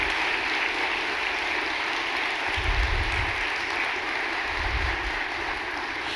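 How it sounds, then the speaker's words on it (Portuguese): A church congregation applauds steadily throughout, a dense, even wash of clapping with no voices over it. "Vamos dar uma salva de palmas para Jesus."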